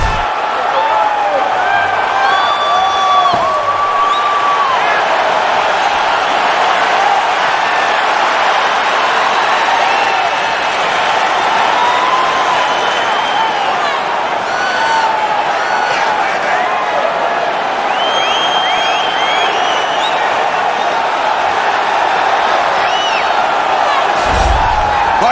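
A sold-out arena crowd roars at a flyweight championship bout in UFC 4, a steady wash of cheering and whistles that never lets up, with scattered whoops rising out of the noise.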